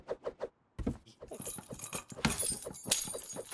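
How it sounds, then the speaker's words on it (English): Keys swept off a kitchen table by a dog's wagging tail land with a sharp metallic jangle and clatter, followed by a few scattered knocks and rattles, close by. "now your tail has knocked the keys off the table."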